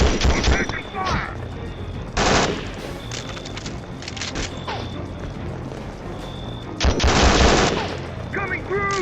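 Gunfire in the desert combat video game Conflict: Desert Storm 2, loud bursts of automatic fire and shots in repeated volleys with battle noise and shouted voices.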